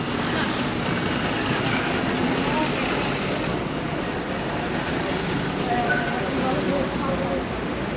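A city bus idles at a stop on a street in Niš, Serbia, its steady engine rumble and traffic noise filling the scene at close range, with faint hiss and clatter mixed in.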